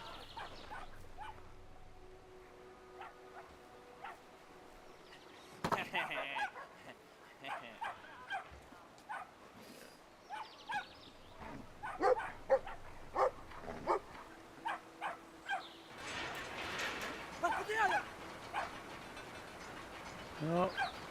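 A cartoonish dog barks and yips in short repeated bursts in a Nintendo Switch puzzle game, mixed with game effects over a quiet background.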